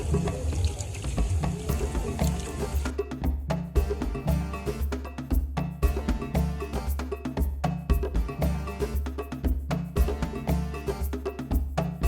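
Water runs steadily while silver fish are washed for a traditional African greens dish. The rushing flow is broken by repeated clinks and clatter of pots or utensils.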